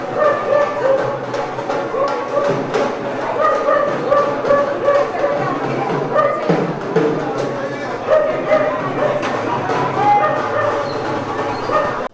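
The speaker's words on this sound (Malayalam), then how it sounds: "നമ്മുടെ ഇവിടെ ഒരു തത്ത, അവിടെ ഒരു പട്ടി, ആളുടെ പേര് ടൈസൺ." A dog barks and yips repeatedly at a busy bike market in Karol Bagh, fairly near and loud over constant crowd noise and voices talking.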